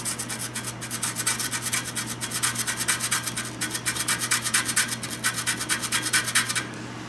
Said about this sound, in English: trying to scrape away the surface of that pin there.